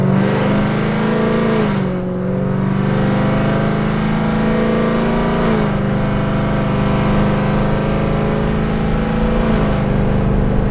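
Supercharged Chevrolet Silverado pickup with X-pipe and H-pipe exhaust revving hard, a loud, steady deep engine roar with rising and falling throttle swells around two, five and nine seconds, heard close up with no talk.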